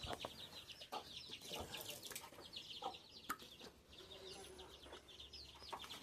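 Hens clucking and chirping nearby in a steady, busy chatter among their chicks, with a few wing flaps and faint farmyard noise.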